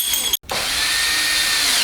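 A cordless power drill whirs loudly and steadily, briefly cutting out before spinning up again and running continuously, heard while working on a Haoqi Leopard Pro fat-tire electric bike.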